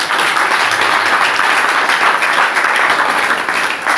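A congregation at a French-language church gathering applauds for the Lord, loud continuous dense clapping from the whole assembly, steady and close, with no voice over it.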